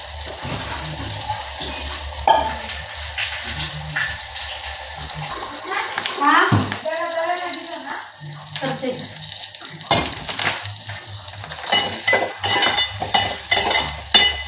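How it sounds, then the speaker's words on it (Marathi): Eggplant slices sautéing in oil in a home kitchen, a loud close sizzle broken by spatula scrapes and stirring, with someone talking over parts of it. "कधी वांग्याचं काप आपल्याला तेलामध्ये परतून घ्यायचं"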